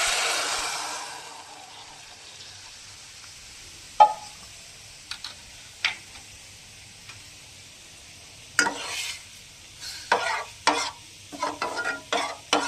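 Cold dal poured onto fish frying in a pan, setting off a loud sizzle that fades gradually, then scattered clinks and scrapes of stirring grow busier toward the end, with no voices.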